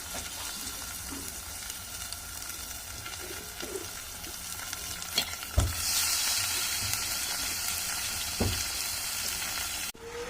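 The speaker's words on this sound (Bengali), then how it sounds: "পেঁয়াজটা ভালো মতন ভাজা হয়ে গেছে। এবার আমি দিয়ে দেবো এর মধ্যে মাংসটা।" Meat and potatoes dropped into well-fried onions in a cooking pot sizzle steadily, with a couple of sharp clanks from the pot partway through and a louder, fuller hiss afterward.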